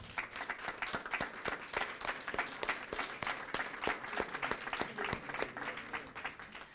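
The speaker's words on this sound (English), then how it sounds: "I think we can give another applause to our great speakers." An audience at an education panel event applauds the speakers, with sharp distinct claps repeating irregularly over a softer crowd wash, fairly quiet and distant.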